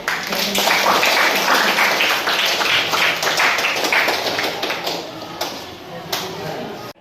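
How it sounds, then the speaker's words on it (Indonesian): Students clapping in a classroom during a religious studies lesson, loud, busy and uneven applause close by that tapers off toward the end, with voices mixed in. "Kita beri tepuk tangan untuk Ardian dulu."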